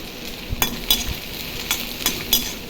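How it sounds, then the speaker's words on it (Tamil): Meal maker soya chunks dry-fry in a pan, with a spoon clinking and scraping against the metal in a handful of quick strokes over a faint sizzle, close and with no voices. "கொஞ்சம் நேரம் இதை ஃப்ரை பண்ணிடலாம்."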